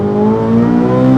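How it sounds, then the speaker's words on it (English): Engine of a 2024 Chevrolet Corvette C8 Z06, loud and close, holds a steady rising drone with strong harmonic tones for a brief moment, without talking. "the C8 Z06 is a different animal. It sounds crazier, it pulls hard"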